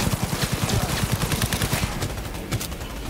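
Rapid automatic gunfire from the video game Cyberpunk 2077, a fast steady burst of shots close and loud for about two seconds, then tapering into scattered reports with combat noise.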